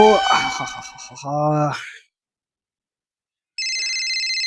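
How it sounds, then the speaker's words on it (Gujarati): A telephone ringtone sounds in a comic sketch about an order for ladoos: a short steady electronic ring that comes in alone after a stretch of silence, following a voice. "અલ્યા કોનો ફોન આવ્યો પાછો."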